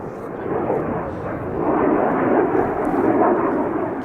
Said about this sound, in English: You can definitely hear the din of the road in the distance, and obviously airplanes when they are landing and taking off.